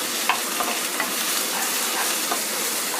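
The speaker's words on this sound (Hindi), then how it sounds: "प्याज को 1 मिनट तक हम फ्राई करेंगे।" Chopped onions frying in vegetable oil in a pan for masala bhindi, a dense, loud hiss with a few light crackles and stirring clicks, near and without talk.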